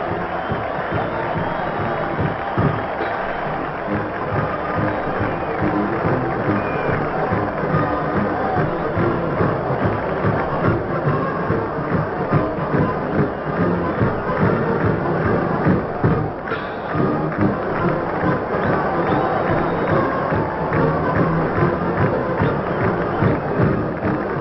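A crowd of more than 40,000 at a 1938 Illinois at Notre Dame football game stands and cheers for the Fighting Irish, a continuous distant roar in a thin, old, muffled recording.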